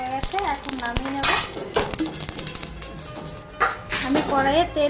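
Dry-roasted spices come off the heat in a kadai, a metal pan and utensils clinking and scraping in quick irregular knocks, close by, while someone talks over them.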